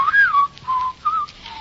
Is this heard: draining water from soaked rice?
no